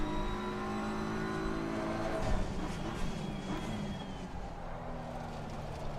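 Race car engines at Suzuka in a racing game, a steady whining drone of several motors with rising and falling pitch as cars accelerate and shift, loud and continuous.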